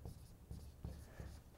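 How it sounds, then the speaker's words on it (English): Pen or marker writing math notes on a board or tablet, a few scratchy strokes in quick succession, close and fairly quiet, with no talking. "So let me write that down."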